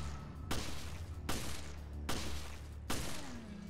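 Four evenly spaced bursts of automatic gunfire from the Resident Evil: Revelations Raid Mode video game, each a sharp loud volley with a short decaying tail, separated by brief quieter gaps.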